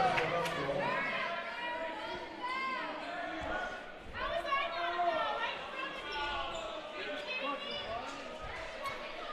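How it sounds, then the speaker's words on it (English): Crowd noise at a physical high-school basketball game, a murmur of cheers and chatter running under a commentator's continuous voice with shoes squeaking and the ball thumping now and then. "You can hear some of the crowd reactions going on."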